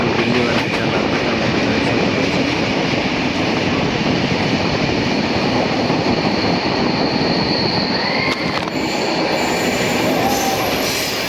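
A passenger train rolls along the rails on the way to Delhi, making a loud, continuous close rumble with rhythmic wheel noise and brief metallic squeals near the end.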